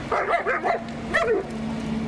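A dog being trained while a female is in heat and a strange dog is nearby gives a quick run of sharp, close yips and barks. One more high yelp follows after a short pause, then a faint whine trails off.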